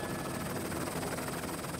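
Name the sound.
helicopter flying over Champagne vineyards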